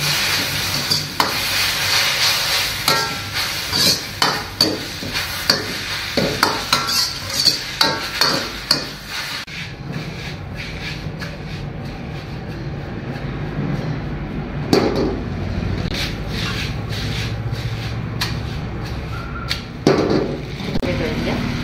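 Veg chowmein tossed and stirred in a pan, with rapid metallic clinks and scrapes for several seconds followed by quieter sizzling and occasional knocks, while someone talks in places.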